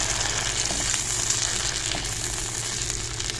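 Whole black cardamom and cloves frying with masala for an aloo matar curry, a steady close sizzle and crackle of hot oil running continuously with no pauses.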